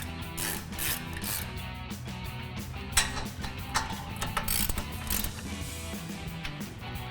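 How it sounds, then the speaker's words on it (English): A 19mm socket on a ratchet tightens the lug bolts of a 2007-2021 Toyota Tundra during a brake rotor job, giving quiet, repeated mechanical clicking and metallic ticks with a few sharper snaps. "Now we'll go ahead and tighten these up using our 19mm socket."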